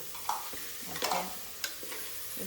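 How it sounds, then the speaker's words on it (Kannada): Onion and garlic frying in a pan, a steady soft sizzle with a few scraping stirs of a spatula, close and moderately quiet, with no speech. "ಈರುಳ್ಳಿ ಅದು ಚೆನ್ನಾಗಿ ಹುರಿಬೇಕು"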